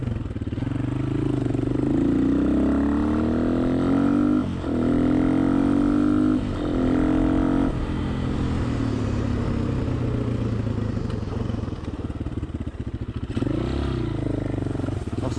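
A Honda XLR125R motorcycle engine revs hard and climbs to its 9000 rpm limiter, the note bouncing and stuttering at the top in repeated bursts, loud and close.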